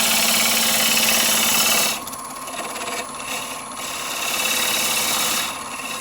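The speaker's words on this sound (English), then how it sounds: "I want to take my parting tool and I want to make me a distinct bottom down in here" Wood lathe humming steadily as a parting tool cuts the bottom of a natural edge wooden bowl, loud continuous drone with the cutting tone shifting and dipping as the tool bites.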